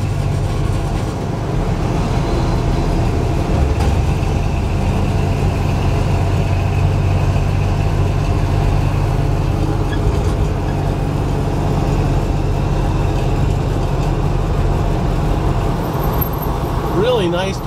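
A 1971 Jeep Jeepster convertible with a roughly stock 225 V6, dual exhaust and automatic transmission drones steadily while driving, a constant low rumble with road and wind noise throughout and no pauses.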